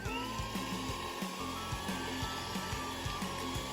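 An electric mixer kneads sticky cinnamon roll dough, a constant close motor whine with a rhythmic low thumping as the dough turns, steady and alone.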